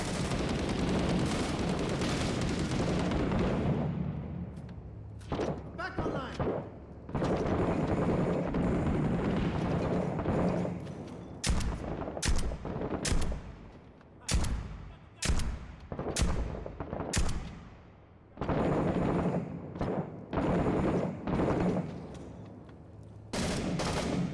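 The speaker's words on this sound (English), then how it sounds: "So now I threw that grenade at the window." Video game combat in Six Days in Fallujah: a grenade blast and heavy bursts of gunfire, loud and close, with sustained rattling volleys broken by sharp repeated cracks and short pauses.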